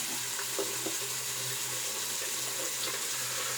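Water runs steadily from a tap into a sink while a face is wetted before shaving, a continuous close hiss with faint splashes and a low hum underneath.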